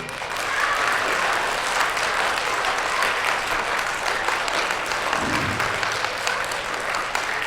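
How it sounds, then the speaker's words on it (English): One side of a live clown show audience claps together, a dense, steady patter of applause lasting several seconds without anyone speaking. "Now let's try this side of the room one more time. You guys all ready? Start clapping."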